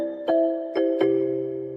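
A Renfe train jingle in its second version: three clear, bell-like electronic chime notes with sustained tones, the final note lingering at a lower pitch, heard cleanly with no voices.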